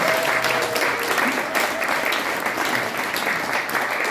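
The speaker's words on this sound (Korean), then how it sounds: "큰 박수로 맞아주시기 바랍니다." Audience applause welcoming a performer onto a stage, a dense, steady wash of clapping from a crowd, sustained evenly for several seconds.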